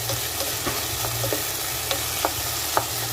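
Ground meat sizzles steadily in a frying pan, with the scrape of stirring and small pops breaking through the continuous hiss.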